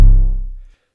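A single hard-hitting 808 bass hit, booming and deep with a sharp attack, sustaining loudly then fading out over under a second.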